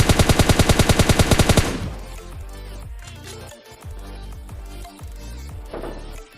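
M24 sniper and M4 rifle fire in the mobile shooter PUBG Mobile Lite: a fast, loud string of evenly spaced shots, then a denser, messier burst of gunfire and game noise, with no voices.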